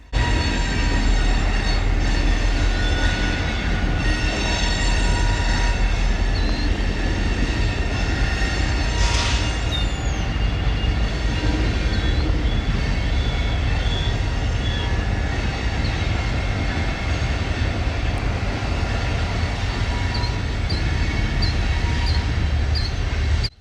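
Canadian Pacific red yard switcher locomotives moving through Bensenville Yard near Chicago, a loud continuous rumble of engines and rolling wheels with brief metallic squeals and faint high whistling tones over it.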